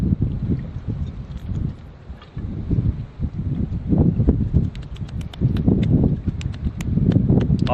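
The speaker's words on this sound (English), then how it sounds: "It sounds windy." Wind blows across the coastal headland at Crookhaven at sunset, a steady low rumble that swells in gusts with some rustling, loud and close with no one talking.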